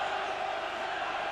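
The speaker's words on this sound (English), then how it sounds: "Norwich crowd really doing all they can to lift the side" Norwich City crowd in a packed football stadium during a UEFA Cup match against Bayern Munich, a steady, dense roar of cheering and shouting from thousands of fans throughout.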